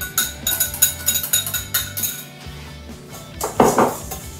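A utensil whisks egg yolks and sugar in a bowl, knocking and clinking steadily against the sides in quick repeated strokes, close by with no talk, then a louder scrape and clatter near the end.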